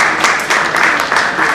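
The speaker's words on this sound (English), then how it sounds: "Please welcome him to the round of applause" A seminar audience on audit trail and NBFC topics claps to welcome a speaker, loud, close, rhythmic applause with a few distinct pulses.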